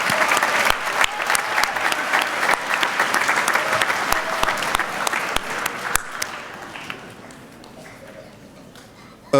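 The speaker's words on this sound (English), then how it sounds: "Can we give them all a round of applause and a happy birthday?" School assembly audience applauding together, a dense sustained clapping that fills the room loudly before thinning out and fading toward the end.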